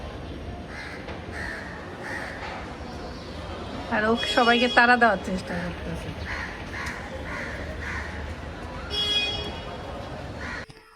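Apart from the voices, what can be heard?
crows cawing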